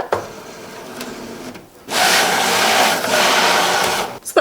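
A crafting cutting machine cuts a project on a cutting mat, giving a steady rubbing, scraping mechanical sound with a short pause partway through, then a louder sustained stretch, close by with no talk.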